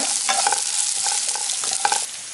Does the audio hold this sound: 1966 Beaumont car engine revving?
no